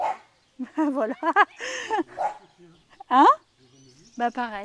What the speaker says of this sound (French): C'est le chien du voisin.